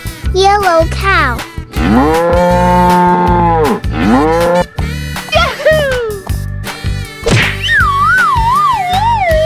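Cartoon cow moos repeatedly in a kids' animal painting video game, loud drawn-out lowing with wavering pitch over bright game music and effects.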